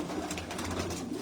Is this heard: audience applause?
no